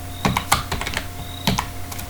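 Keystrokes on a computer keyboard, about a dozen crisp clicks in quick irregular bursts with short pauses, close and clear with no voices.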